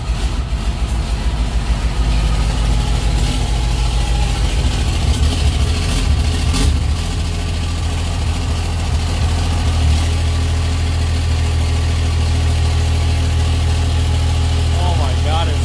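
A 4th gen Cummins diesel truck fitted with a 2nd gen turbo idles steadily and loudly up close, a constant low rumble with a faint whine, with a voice talking over it.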